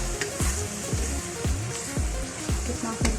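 Food frying in a pan with Bombay biryani masala, a steady close sizzle broken by regular scraping strokes of a spoon as it is stirred, with no talking.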